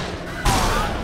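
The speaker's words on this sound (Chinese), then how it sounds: "哪有理由碰到天花板会爆炸啦" A thrown grenade explodes against a ceiling in the zombie shooter game The Walking Zombie: Dead City, a sudden loud blast after a brief lull, followed by a noisy, rumbling tail.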